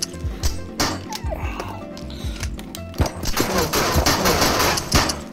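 Gunfire in the video game Into the Radius, with ammo that fails to pierce armor: loud, close bursts of rapid shots and sharp impacts, repeating in clusters through the whole stretch.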